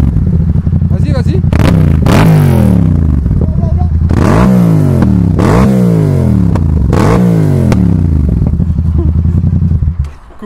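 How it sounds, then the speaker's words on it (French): Motorcycle engine revving up and down repeatedly in loud, rising surges, close by, with voices talking over it before the engine cuts off near the end. "Vas-y, démarre ta bécane, ton Alpha Jet."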